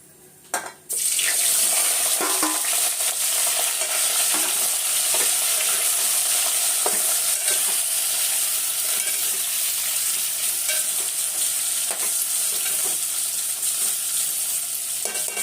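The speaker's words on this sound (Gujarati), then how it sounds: "મમ્મી અહીંયા ઘડી તેલ નાખી અને રીંગણ વઘારી દીધા છે." Brinjals go into hot oil for a stuffed brinjal curry, jumping from near quiet to a loud, dense sizzle that holds steady and close with occasional stirring clinks.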